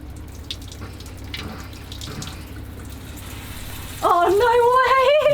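Water runs with a steady hiss from a campervan shower, heated by a newly installed Truma Combi D6 diesel heater and water pump, over a low mechanical hum, then excited voices break in loudly near the end.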